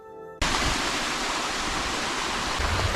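Brooks converge and flow through a remote Vermont backcountry river valley, a loud, steady rushing of water that begins suddenly and continues unbroken, with no talk.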